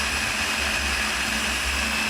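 A blender puréeing food with a little oil into a cream runs in a steady, loud motorized whir without pause, a droning mechanical hum with a constant high whine on top.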